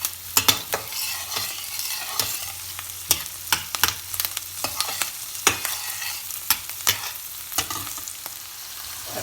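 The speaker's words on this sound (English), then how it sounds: "The onions are cooking," Onions frying in a pan for a lentil and chapati meal, a steady sizzle broken by repeated sharp scrapes and clacks of a utensil stirring, close and clear with no talking.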